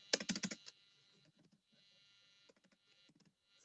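Computer keyboard typing in bursts, a quick loud flurry of keystrokes at first and then scattered softer taps, close by with no talk.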